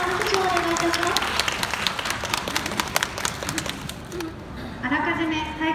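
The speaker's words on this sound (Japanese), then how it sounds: "皆様の拍手をお願いいたします" An audience claps at a one-day police chief event in a shopping centre: a burst of dense, crackling applause that swells and then fades, with a voice speaking just before and again after.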